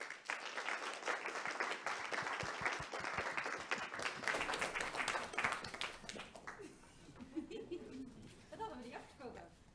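Warm audience applause for a community wind band after its performance, dense clapping for several seconds that thins out toward the end, with scattered voices and a short burst of talk underneath.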